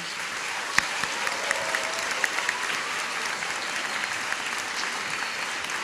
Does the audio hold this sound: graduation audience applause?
yes